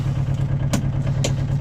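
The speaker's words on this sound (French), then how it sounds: "On se retrouve dans l'habitacle moteur allumé." Engine idling inside the cabin of a microcar (voiture sans permis) with a round air filter, a steady low drone filling the space with a couple of brief clattery knocks over it.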